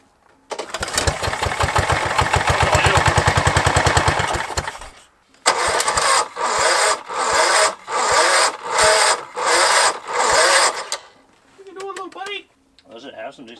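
Old abandoned Pontiac engine cranking and catching on a farm: a long loud burst of rapid firing, a pause, then rhythmic chugging surges that sputter and die, with people talking faintly around it.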